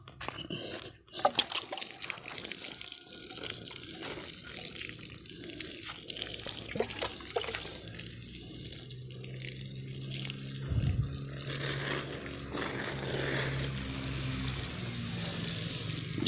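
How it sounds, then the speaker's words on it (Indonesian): A watering can pours onto purple eggplant seedlings with a soft, continuous splashing trickle. The sound is faint and sits among low background noise. "Disiram dengan gembor ya"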